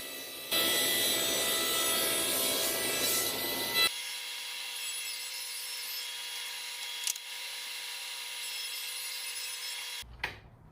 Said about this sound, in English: I simply took a piece of plywood and jointed one edge on my table saw